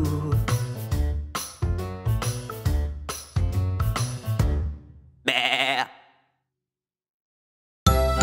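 A cartoonish sheep bleat in a children's song on a farm-animals theme: a single wavering bleat follows a run of sung, bouncy musical phrases, then a brief silence before the music resumes.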